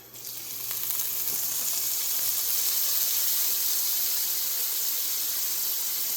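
Garlic sizzling in melting butter in a hot pan, a steady bright hiss that rises quickly after the garlic goes in and holds evenly, close and loud with no talking.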